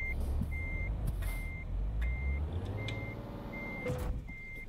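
A truck in Euro Truck Simulator 2 reverses with a regular string of high, evenly spaced beeps over a low, steady engine rumble, with a hiss of air brakes near the end.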